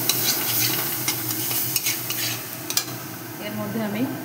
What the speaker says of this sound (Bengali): খানিকটা হলুদ দিয়ে মশলাটাকে শুকনো একটু ভেজে নেব